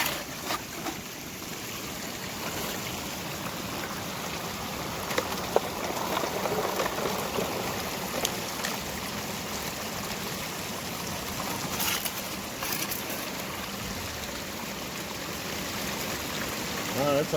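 Steady rushing water with dirt running through a Keene MiniMax sluice loaded with DIY silicone dream mats, a continuous close gurgling flow with occasional small knocks and faint voices beneath.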